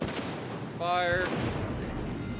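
A warship's naval guns fire in the World of Warships Legends video game, one heavy boom with a rumbling tail, heard under a steady background of game noise.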